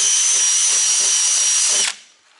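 A power drill bores a hole through fiberglass on a truck during an LED backup light install, a loud steady high whine for about two seconds that cuts off abruptly as the bit breaks through.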